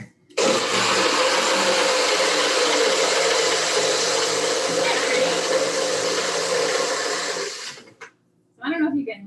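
A countertop blender whirs steadily while blending a berry smoothie, loud and continuous for about seven seconds before cutting off, followed by a brief voice.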